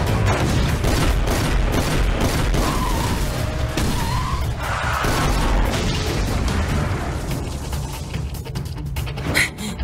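Laser Phantom weapon firing in an Indonesian-dubbed Watch Car cartoon, a dense sustained barrage of booms, bursts and crashes lasting the whole stretch, loud and continuous with no speech over it.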